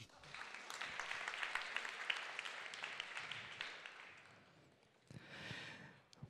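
Applause at a foundation award ceremony, a steady crowd clapping that fades briefly, then returns in a short second burst.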